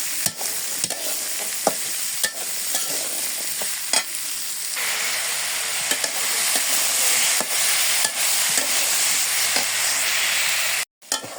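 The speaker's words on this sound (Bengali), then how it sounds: "মিষ্টি লাউ কুচি দিয়ে দিই, পরিমাণ মতো লবণ, হলুদ, শুকনো মরিচ, কাঁচামরিচ দিয়ে দিচ্ছি, আমি নাড়া খাড়া দিয়ে দিলাম।" Chopped sweet gourd is stir-fried with salt, turmeric, dried red chilli and green chilli. Repeated scraping stir strokes sound over a continuous sizzle, ending in a short abrupt break.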